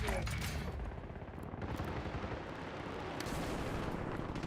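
Sustained rapid gunfire from a light machine gun in the video game Rainbow Six Siege, a dense, loud, continuous rattle of shots running the whole stretch with no pause.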